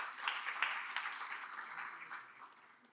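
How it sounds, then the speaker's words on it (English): Audience applause for the panelists at the close of a high-level panel discussion, a quiet, steady patter of many hands clapping that fades out over a few seconds. "let me request you again for a final round of applause to our amazing panelists"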